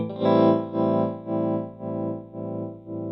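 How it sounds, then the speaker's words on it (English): A clean electric guitar chord rings out through an Electro-Harmonix Wiggler tremolo pedal, its volume pulsing slowly and gently up and down in a smooth, even tremolo. "I've set up the wiggler for kind of a slow, subtle tremolo."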